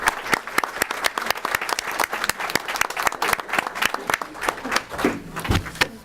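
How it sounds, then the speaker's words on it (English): Sparse audience applause at a board meeting, individual claps distinct and fairly close, a small group clapping unevenly and tapering off toward the end. "there's a lot of clapping"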